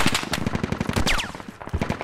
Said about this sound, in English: MG shooting!